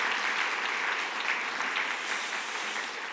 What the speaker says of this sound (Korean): 자, 우리 모든 분들께 큰 박수로 감사합니다.